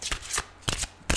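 Tarot cards shuffle in three quick, crisp riffling bursts with short pauses between them, close and clear with no talking.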